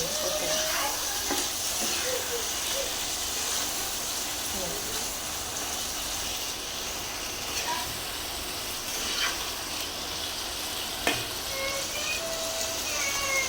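Fish and spices fry in oil in a pan in a home kitchen, producing a continuous, even sizzle and hiss with occasional light crackles, with faint voices in the background.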